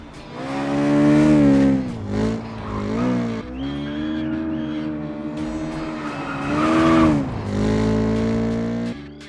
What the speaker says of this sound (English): The engine and exhaust audio are also far below average, which we all suspected would be the case.